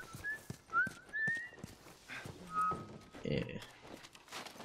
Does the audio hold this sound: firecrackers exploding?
no